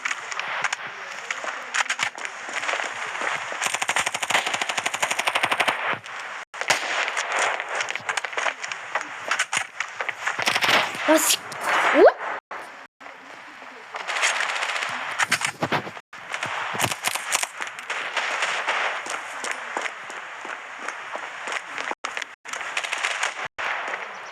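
Rapid automatic gunfire from the Standoff 2 shooting game crackles in long dense bursts with short gaps, loud and continuous through most of the stretch, with faint voices at moments.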